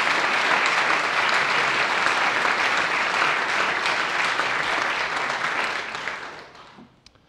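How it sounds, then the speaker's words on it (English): A church congregation applauds a choir in a dense, steady round of clapping that holds for several seconds before fading out. "Would you give them a round of applause on that?"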